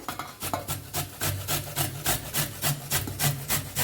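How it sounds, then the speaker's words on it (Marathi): Cucumber is grated on a hand grater in quick, regular rasping strokes, about three per second, close and fairly loud, with no talking. "काकडी भी किसून घेऊया, गाजर किसून घेतले। त्याला भी किसून घेऊया।"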